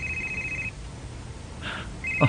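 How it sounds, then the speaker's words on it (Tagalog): A cellphone rings with two bursts of a steady electronic tone separated by a quiet gap, followed by a short knock or tap near the end. "Ang ako cellphone."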